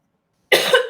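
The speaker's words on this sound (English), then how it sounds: "I don't keep coughing in your podcast here" A single harsh cough bursts out after a moment of silence, close and loud, from a guest on a podcast.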